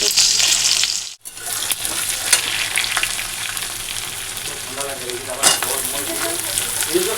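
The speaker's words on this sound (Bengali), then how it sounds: "আর মাছ ভাজা বসিয়ে দিয়েছি" Fish sizzles in a pan of hot oil, a loud continuous crackling hiss with light stirring clinks, dipping to a brief pause early on before the frying resumes.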